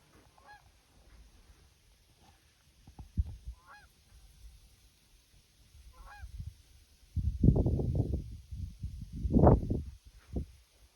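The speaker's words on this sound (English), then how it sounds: "You hear the geese flying overhead?" Geese honk in scattered calls at first, then a loud burst of overlapping honking swells up near the end as the flock passes overhead, heard outdoors from a field in Manitoba.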